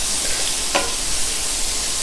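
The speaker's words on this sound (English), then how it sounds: "I'm just going to saute these off." Big chunks of pork sautéing in a pan over lowered heat for smothered pork chops, a steady broad sizzle with one brief stir or scrape near the start.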